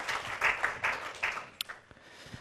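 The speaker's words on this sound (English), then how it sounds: "How about another round of applause for Ryan and the Cleveland Council on World Affairs" A small audience applauds at a community presentation event, a brief burst of scattered clapping from the room that tapers off within about two seconds, with no talking over it.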